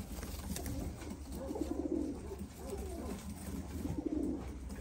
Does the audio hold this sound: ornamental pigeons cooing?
yes